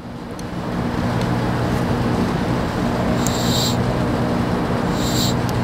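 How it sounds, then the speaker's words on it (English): Compressed gas hisses steadily from a slightly opened dump valve on an accumulator charging kit for an Epiroc drill, a constant broadband rush alongside a low hum, with a couple of brief high hissing bursts near the end. "I'm going to back off the high pressure regulator and very slightly open the dump valve."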